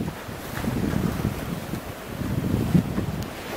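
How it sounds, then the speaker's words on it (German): Ocean waves wash onto a beach by a pier at night on Titanic Beach, a continuous low rushing surf with gentle swells, mixed with soft wind buffeting close to the microphone. "aber ich denke, man hört das Meeresrauschen im Hintergrund"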